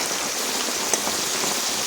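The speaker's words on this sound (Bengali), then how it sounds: "ভালোই বৃষ্টি হয়ে এখানে পুরো জল জল হয়ে গেছে" Heavy rain pours down outdoors beside an open-air cooking spot, a dense, steady close-up hiss of drops hitting wet surfaces, with one sharper splash partway through and no voices.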